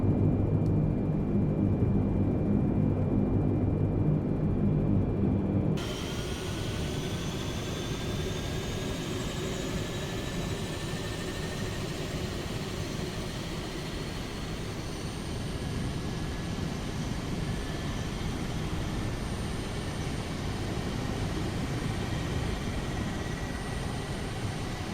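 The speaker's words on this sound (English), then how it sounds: "push the engine 3 condition lever forward and start engine 3" In a Captain Sim C-130J Hercules flight simulator, engine 3 spools up on start: a steady turboprop roar and rising whine build after a sudden jump in noise, then hold as a sustained, fairly loud drone.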